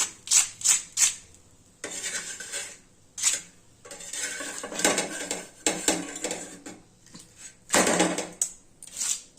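Roti roasting on a hot pan crackles like papad, with close, irregular bursts of sharp crackling and popping that come in clusters with short quieter gaps between them.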